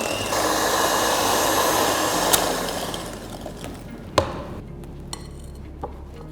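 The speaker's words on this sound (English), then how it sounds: "we are going to beat it till it becomes light and fluffy" An electric mixer beating butter and sugar whirs steadily for about three seconds, then stops, leaving a few sharp knocks and taps against the bowl.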